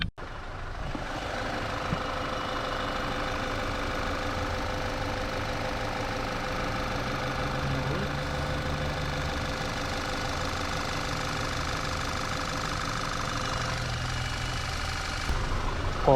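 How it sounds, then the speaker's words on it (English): A 2013 Audi A4 engine runs at a steady idle after a start, giving a continuous even hum with a faint rhythmic ticking. It stays close and constant throughout, with no voices. "Alright, we'll give this a start."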